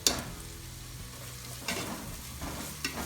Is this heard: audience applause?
no